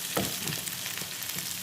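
Marinated Arabic-style chicken roasts in a hot pan, a steady close sizzle of frying fat with a few soft stirring scrapes.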